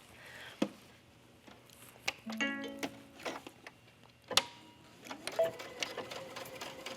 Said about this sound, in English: that's where I'm going to be stitching, right across here